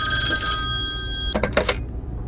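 A telephone rings inside a house in an indie horror video game, a loud, clear electronic bell tone that cuts off, followed by a few short clicks.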